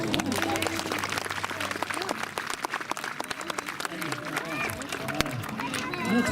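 An audience at a medieval festival in Pierrefonds claps warmly for an eagle owl during a falconry show. The applause is dense and sustained throughout, with voices and crowd chatter mixed in.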